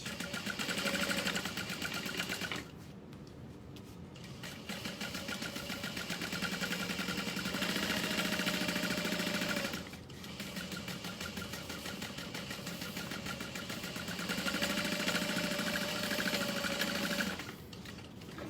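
Sewing machine stitching steadily around the outside edge of a pocket, a continuous close mechanical whir broken by brief pauses and restarts.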